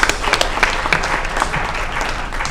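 An audience at a school board meeting applauds new certified staff, a dense, sustained round of clapping from a crowd that holds steady throughout with no talk.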